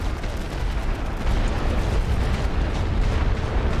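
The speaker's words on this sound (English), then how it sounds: "I do have some heavy artillery I can send their way." Heavy artillery bombardment in a First World War trench battle game, a dense continuous roar of low booming blasts and rumble that swells slightly louder partway through, with no talk over it.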